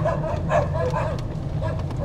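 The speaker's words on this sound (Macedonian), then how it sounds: "Ете, кучиња ми се пуштија." Several dogs barking and yipping at a house in Kavadarci, where they have just been let loose; sharp, repeated close barks with a whiny edge run steadily over a low hum.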